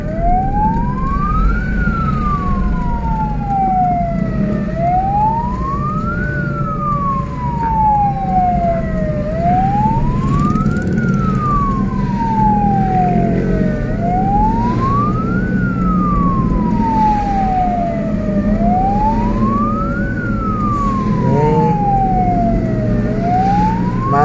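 An ambulance siren wailing in slow-moving traffic on the road toward Bandung, a loud, close rising-and-falling wail repeating in regular cycles over engine rumble.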